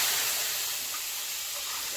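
Curry leaves dropped into hot oil for a sambar tempering give a steady, close hiss of frying that stays even for a couple of seconds, with no talking over it.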